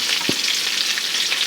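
Onions and fennel frying in oil over browned fond in a pan, a steady broadband sizzle running throughout with a brief stir of a utensil near the start, close and fairly loud, no talking.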